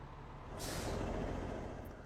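A ramp truck parked at an airport stand in Flight Simulator 2020 gives a single loud hissing burst of air-brake release, which swells and then fades over a low engine rumble.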